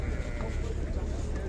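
Sheep bleat at a livestock bazaar in Sokuluk, a short burst of bleating amid the crowd murmur and general market bustle.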